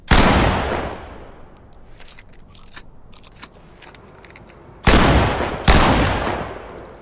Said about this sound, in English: The next gun that we're going to listen to is the shotgun.